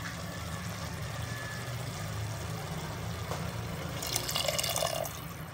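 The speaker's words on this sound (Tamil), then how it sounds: "கொஞ்சம் வேக அளவு தண்ணி ஊற்றிக்கலாம்." Water runs and splashes steadily into a cooking pan of Tamil egg curry (muttai kulambu) with peas, a soft continuous pour over a low background hum that brightens into a louder trickle near the end.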